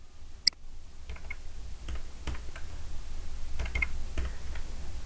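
Keystrokes on a computer keyboard while drafting in AutoCAD, scattered light clicks and taps at an irregular pace, fairly close against a quiet low hum, with no speech.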